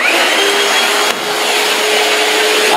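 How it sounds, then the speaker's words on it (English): A Shark vacuum mop runs loudly and steadily in a kitchen nearby, a constant whooshing roar with a slight dip in pitch partway through. "I'm just gonna demonstrate it vacuuming the kitchen."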